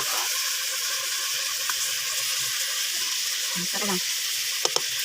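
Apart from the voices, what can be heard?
chicken for tinola sizzling in oil while stirred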